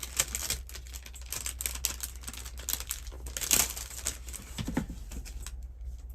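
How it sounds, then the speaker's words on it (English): Stamps are unwrapped from cellophane with quiet crinkling and crackling, irregular small rustles and snaps close by. "They're still wrapped up in the cellophane, so I have to unwrap them"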